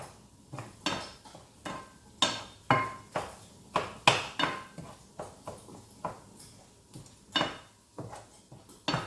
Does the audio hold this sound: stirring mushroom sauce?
yes